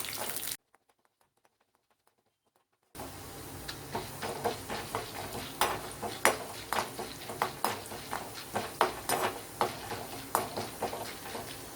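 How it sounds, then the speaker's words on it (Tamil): Chana dal roasting in a pan, after a short near-silent gap, a close series of irregular clinks and scrapes from a utensil stirring the lentils against the metal, moderately loud and without talk. "கடலைப்பருப்பு நல்லா வறுக்கணும்"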